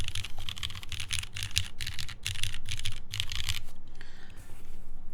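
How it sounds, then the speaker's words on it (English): Rapid, steady typing on a Keycult No 1 Rev 2 TKL mechanical keyboard with a black and stainless case, a soft, muted clatter of close keystrokes that runs for several seconds before trailing off. "It feels really nice and soft for the typing."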